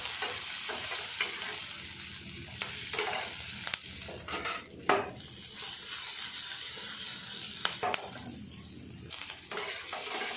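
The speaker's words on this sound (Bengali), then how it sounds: "এই ঘিয়ের উপরে দিয়ে দেব 1/2 চামচ গোটা জিরে। সুন্দর করে সবগুলো ভেজে নেব" Whole cumin seeds fry in hot ghee, sizzling steadily and close, while a spoon stirs and scrapes the pan with sharp clicks.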